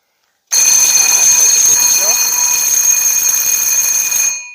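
A fire alarm bell, set off by heat applied to a detector, rings loud, continuous and piercing for about four seconds, starting abruptly and cutting off at the end.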